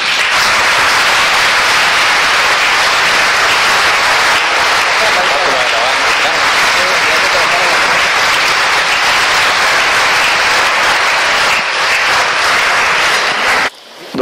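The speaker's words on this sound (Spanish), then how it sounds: "En nombre de la Iglesia los recibimos con un gran aplauso." A church congregation at a 2018 patron saint festival in Lourdes parish, Táchira, Venezuela, breaks into loud, sustained applause that continues unbroken for over ten seconds before cutting off abruptly.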